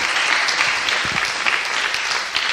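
Audience applause at a tech conference talk on AI for developers, a full, even burst of many people clapping for the whole moment.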